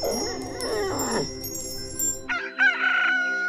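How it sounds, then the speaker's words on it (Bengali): A rooster crows once, a clear, fairly close cock-a-doodle-doo, preceded by other bird and fowl calls over soft background music. "কোথাও মোরগ ডাক।"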